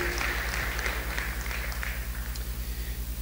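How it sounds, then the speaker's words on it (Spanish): Congregation applause at a Christian church service, a broad crackling clatter over a constant low pulsing hum that thins out and fades by the second half. "denle un fuerte aplauso"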